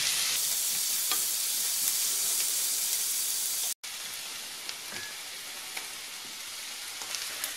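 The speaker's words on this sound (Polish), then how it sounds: "Cebulę i pora będę smażyć do zrumienienia." Continuous loud sizzle of onion and leek frying in butter, with faint stirring scrapes and a brief cut midway.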